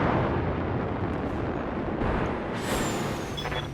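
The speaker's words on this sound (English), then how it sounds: "Engaging jump jets." Mech jump jets in BattleTech fire as a loud continuous rushing blast, rising with a sharp hiss partway through, alone without talk.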